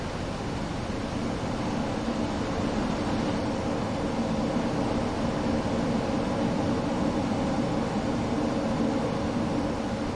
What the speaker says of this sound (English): for me this plane seems a bit loud